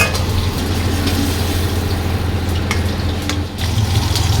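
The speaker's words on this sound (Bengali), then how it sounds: "এইভাবে দু একবার উল্টে পাল্টে নিলেই মাছটা ভাজা কমপ্লিট হয়ে যাবে" Koi fish (climbing perch) frying in oil, a steady dense sizzle with soft stirring and scraping, continuous and close throughout.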